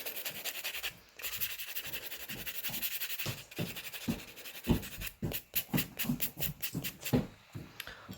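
Rough scratchy rubbing as a Pokeball dangle charm's surface is roughed up, steady scraping strokes first, then a run of sharper, more rhythmic passes, close and fairly quiet with no talking.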